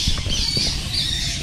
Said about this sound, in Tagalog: Kaya maingay. Parang ibon din eh, no? Mga fruit bats pala ito.